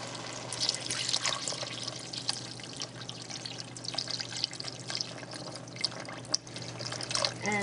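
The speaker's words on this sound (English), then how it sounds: "so now I'm going to add water" Water poured from a tap or jug into a pan of browned beef for Moroccan couscous, a continuous splashing, trickling stream with small drips, close and moderately loud, no talking.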